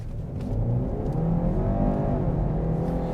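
BMW 330e plug-in hybrid pulling away from a standstill, a steady rising engine and road hum heard from inside the car, moderately loud and continuous with no talking.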